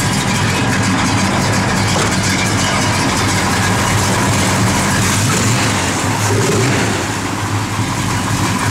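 A 1968 Dodge Dart GTS engine runs steadily at idle, a loud, close, continuous rumble with a slight swell in revs partway through and no talk over it.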